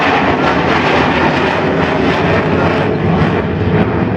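An Avro Vulcan bomber making a low overshoot at the Farnborough air show in 2012, its jet engines a loud, steady, broadband roar filling the whole stretch without a break or any voices.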